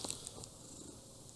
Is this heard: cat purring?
yes